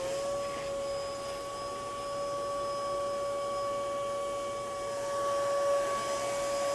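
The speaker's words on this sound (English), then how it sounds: "Once you have your vacuum hooked up and running to the outside pipe" A shop vac hooked to a drain line runs steadily, a loud continuous motor whine with strong tonal hum and airy rushing, unbroken throughout and swelling slightly near the end.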